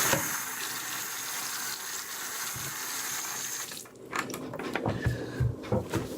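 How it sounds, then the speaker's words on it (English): Water runs steadily from a sink faucet left on while a cup rinses soap off the fixture and basin, a close, even rush that gives way to louder splashing and knocks in the final seconds; no one speaks. "I leave the water running so that I don't have to touch the handles of the faucet"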